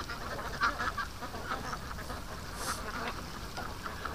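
Ducks quack faintly in a wet grassy yard, a few scattered calls over soft outdoor background noise.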